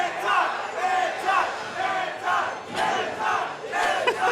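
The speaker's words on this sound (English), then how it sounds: "Crowd's going nuts." Arena crowd at a fighting game tournament roars and cheers wildly in sustained waves, with shouts rising and falling throughout and no clear talk.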